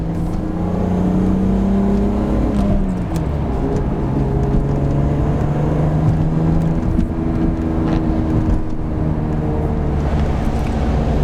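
BMW Z3M Coupe engine droning and revving while driving on the road, loud and steady with pitch climbing through the gears and dipping at shifts, heard from inside the car without talking.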